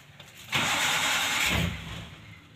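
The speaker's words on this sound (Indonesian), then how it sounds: "Ini terjadi starter panjang lur" A Suzuki Carry 1.0 engine cranks on its starter for a long stretch without catching, a loud, steady whirring drone of about a second that then fades into quieter grinding.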